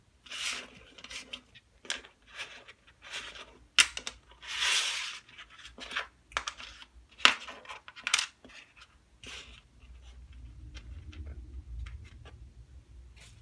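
Dice rattle and clatter in a series of quick, sharp clicks and taps on a backgammon board, followed by softer rubbing and shuffling of checkers near the end.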